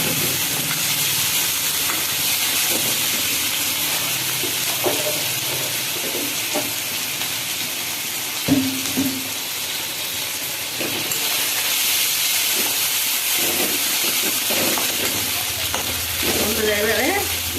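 Onions, ginger and garlic fry in hot oil in a pan, giving a steady, close sizzle with a few soft stirring knocks along the way.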